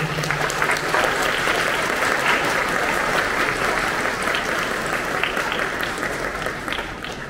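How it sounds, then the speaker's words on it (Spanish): Sustained applause from a crowd at a Catholic church festival honoring the Virgin of Belén, a dense, steady clapping that fills the whole stretch at an even level. "Un aplauso para esta Virgen de Belén."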